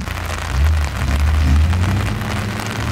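Steady rain pours down at an extreme 4x4 off-road jamboree in Costa Rica, a dense, close hiss drumming on surfaces with a low rumble underneath, continuous throughout.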